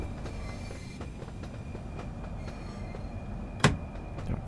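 Simulated high-speed Southeastern train in Train Sim World 2 rumbling along the track as it slows, with a steady low rolling drone and a single sharp loud clank or squeal burst near the end.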